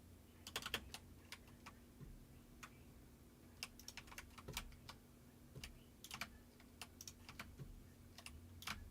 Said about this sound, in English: he was just typing something